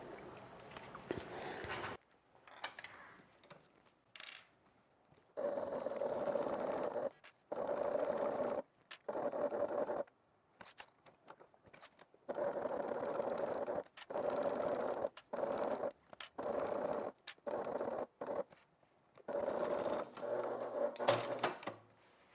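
A sewing machine stitches a bag flap in repeated bursts of fast, even rattling, each run of several seconds separated by short pauses, fairly quiet and close.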